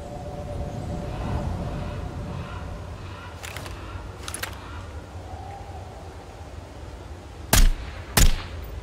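Two sharp gunshots in the Nether survival shooter game, loud and close together near the end, after a stretch of quieter ambient game sound with a few fainter cracks.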